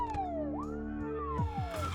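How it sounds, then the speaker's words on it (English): A police car siren in the zombie survival game Project Zomboid wails and sweeps up and down in pitch, steady and moderately loud, with no voices. "park it outside, and turn the siren on"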